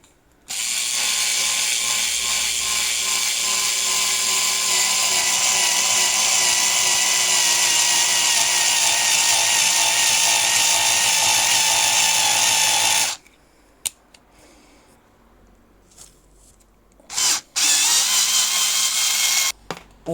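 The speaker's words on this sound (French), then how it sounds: "je l'ai mis en mode perçage" A Teccpo cordless screwdriver drill in drilling mode whirs loudly and steadily for about thirteen seconds, stops, and then gives a few short bursts amid quiet handling noises.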